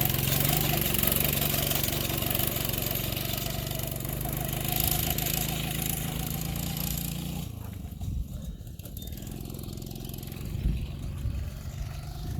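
Small mini go kart engine idling on the ground in a driveway, a faint steady low putter throughout with some knocks and handling noise in the later part.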